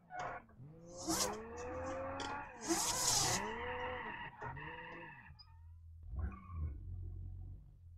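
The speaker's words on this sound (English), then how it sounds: "I get to play with this car in BeamNG" Car engine in the BeamNG driving game, revving and climbing through repeated gear pulls, with tyre skids and brief bursts of hiss between rises, loud and close with no talk.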